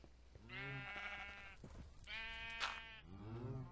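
Sheep in Minecraft bleat in three drawn-out, wavering calls separated by short pauses, close and clear with no talk over them.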